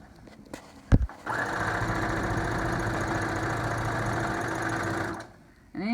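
A sewing machine runs steadily for about four seconds, stitching a seam on a lined cloth face mask, preceded by a sharp knock and followed by a quiet pause.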